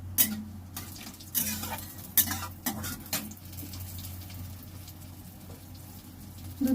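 Dried red chillies and five-spice tempering in hot oil in a home kitchen, a soft steady sizzle with several sharp stirring and clattering knocks of utensil against pan, no voices.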